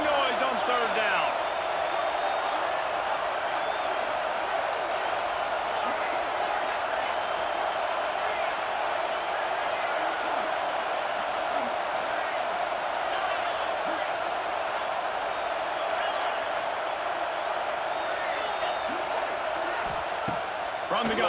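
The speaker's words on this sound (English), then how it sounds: "This dog crowd is off the leash, and they are coming after them, bringing noise on third down." Steady, dense stadium crowd roar in EA Sports College Football 26, a loud, constant wash of cheering and noise on third down, holding level throughout with a few faint thumps and no clear speech on top.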